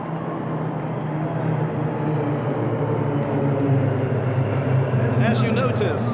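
CASA military aircraft flying in formation over an air display, a steady broad engine roar droning throughout with crowd or announcer murmur beneath and a brighter rise near the end.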